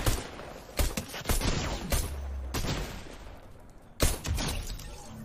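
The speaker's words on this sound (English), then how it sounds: "So that was another pistol elimination." Pistol gunfire during an elimination in a video game: several sharp, loud shots spaced irregularly, with the heaviest burst near the end over a steady background of game noise.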